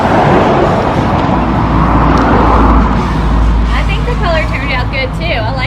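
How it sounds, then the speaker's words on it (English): A custom budget Harley bagger motorcycle with new mufflers rumbles with a low, steady exhaust burble close by, while people talk over it in the second half. "The new mufflers sound awesome too."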